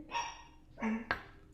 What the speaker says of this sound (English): you have your dog barking in the back of video